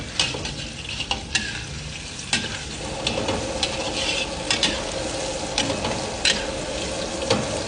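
Onion, ginger and garlic sauté in oil in a pan for a sardine sambal, a constant close sizzle broken by repeated scraping, clacking stirs of a spatula at an uneven rhythm.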